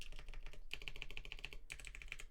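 Fingernails tap the keys of a TKD Cycle 80 keyboard in quick, close clicky ticks, grouped in three short bursts with brief pauses between them.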